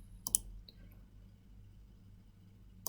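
A couple of quick, quiet mouse clicks sound near the start while saving settings on a computer, followed by a low, steady room hum with no speech.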